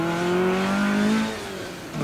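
A car accelerates hard on an autocross course in 1987, its engine note climbing in a strong, steady drone before tailing off and dropping away near the end.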